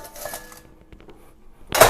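A hot bread pot lid is lifted from an oven and set down, giving a brief metallic clank at the end after quiet rustling handling noises.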